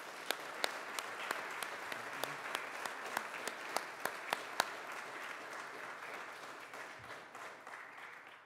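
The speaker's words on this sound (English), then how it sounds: "And before I get into Trish, I'd like to give these guys a round of applause, please." Applause from the gathering at a celebration service, a dense wash of many clapping hands with a few sharp louder claps standing out, holding steady for several seconds before thinning toward the end.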